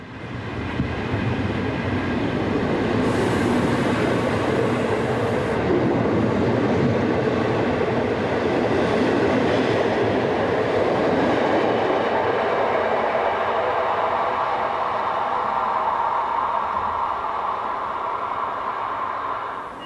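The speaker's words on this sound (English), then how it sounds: "(1142-566) in blood orange livery departs the station at Leonding on the 12th of July 2006, heading for Linz." An ÖBB class 1142 electric locomotive in blood orange livery pulls out of Leonding station toward Linz, its loud, steady rolling rumble and wheel noise filling the whole stretch with no talking.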